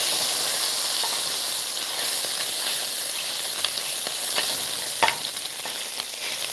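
A piece of bacon frying on a grill to render tallow, a loud continuous close sizzle with scattered pops and crackles throughout.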